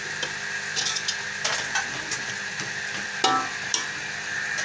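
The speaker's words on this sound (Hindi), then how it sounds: "आप इसको थोड़ा सा फिर जो ना 10 मिनट भूनने के लिए छोड़ देना" Cauliflower and potato pieces fry in masala in a pan, with a steady sizzle and irregular wooden stirring knocks and scrapes scattered through.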